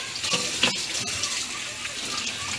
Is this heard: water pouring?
yes